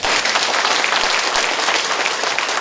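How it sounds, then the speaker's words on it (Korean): Audience applause at a policy talk concert, a steady, full burst of clapping from a seated crowd that stays even and loud throughout, with no talking over it. "박수 한번 쳐주십시오"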